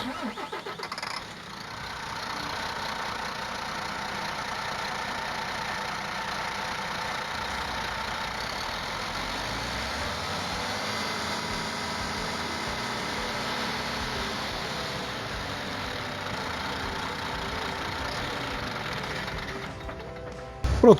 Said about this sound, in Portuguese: nós vamos funcionar a marcha lenta, depois vamos acelerar o veículo no máximo possível